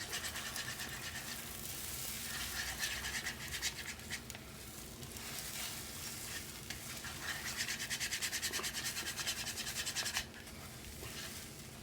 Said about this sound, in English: we've loosened the egg from the pan all the way along that side.